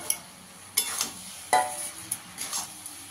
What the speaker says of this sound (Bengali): এবার আমি মাছগুলো দিয়ে দেবো